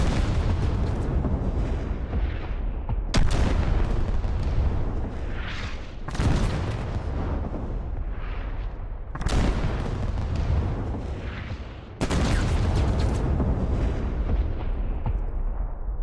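Artillery in the video game Squad firing rounds that explode: heavy booming blasts roughly every three seconds, each followed by a long rumbling decay, loud and steady with no voices.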